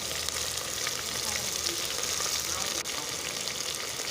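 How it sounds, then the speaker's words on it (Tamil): Chopped onions and dried red chillies fry in hot oil with mustard seeds and urad dal, giving a steady, close, loud sizzle with a faint stirring scrape partway through. "நறுக்கி வச்ச வெங்காயமும் காஞ்ச மிளகாவும் நல்லா வதங்கட்டும்"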